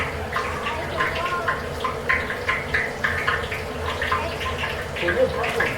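Water runs from a tap to rinse out a container after scooping popcorn, a steady splashing wash under background murmur and voices in the room.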